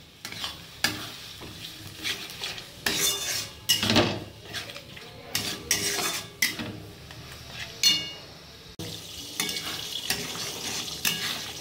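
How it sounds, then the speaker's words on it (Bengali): Cashew, poppy seed, yogurt and milk powder paste being stirred and fried in a pan for a doi katla fish curry, with repeated scraping spoon strokes against the metal and a steady sizzle, close and alone without speech. "দিয়ে এবার এটা ভালো করে কষিয়ে নেব।"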